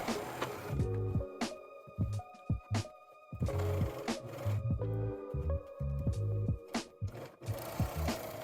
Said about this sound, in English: I then remove the basting stitches and overlock to finish.